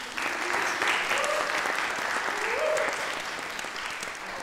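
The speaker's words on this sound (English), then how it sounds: "Deserves applause immediately." An audience at a graduate recital breaks into enthusiastic applause, steady clapping that swells quickly and holds before easing slightly toward the end.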